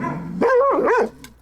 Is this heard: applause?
no